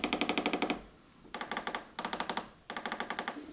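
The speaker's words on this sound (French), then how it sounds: "le petit clic des boutons sur le clavier est encore plus dingue" Rapid bursts of crisp plastic clicks from buttons on a Kontrol S61 MIDI keyboard controller, about a dozen taps in each run, repeated four times with short pauses between, close and clear.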